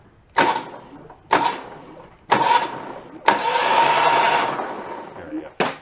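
An old air-cooled VW Bus engine pulled from a barn is cranked in several short bursts to spread oil inside, each burst a loud mechanical whirring that stops abruptly, with one longer spin near the middle.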